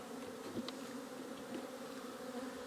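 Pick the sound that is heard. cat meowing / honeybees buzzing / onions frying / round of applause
honeybees buzzing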